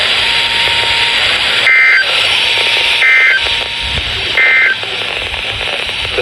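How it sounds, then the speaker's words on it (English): National Weather Service weather radio warning alarm test: three short, loud electronic tone bursts repeat at steady intervals over constant broadcast hiss, with a faint steady tone in between. "This is a test of the National Weather Service weather radio warning alarm"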